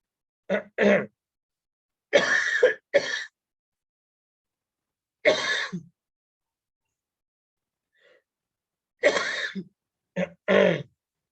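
Several short, harsh coughs and throat clears in separate bursts, close by, with quiet pauses between them.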